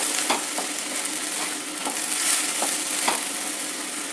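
Green beans and other vegetables sizzle steadily in a hot pan, with a spatula stirring and scraping at irregular moments over the constant frying hiss.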